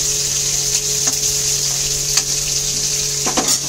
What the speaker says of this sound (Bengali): এবার চিংড়ি মাছগুলোকে লাল লাল করে ভেজে নেব।